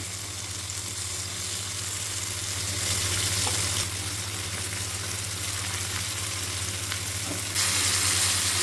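Two tomatoes frying in a pan with onion and salt for a spicy tomato chutney, giving a steady, close sizzle under a constant low hum, with no talking.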